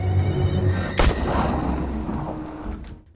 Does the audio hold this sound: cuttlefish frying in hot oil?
no